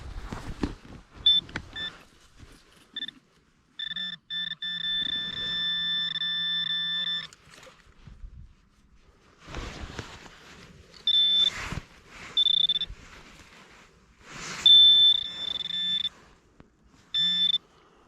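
A metal detector out on a treasure hunt emits repeated electronic tones, steady sustained beeps in several bursts of varying length with short gaps, loud and close, with no voices.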